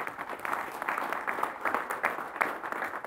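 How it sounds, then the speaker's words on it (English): Audience applause at an NHL All-Star Weekend event, steady and fairly close, sustained dense clapping for about three seconds without talk. "Let's give Santiago a round of applause."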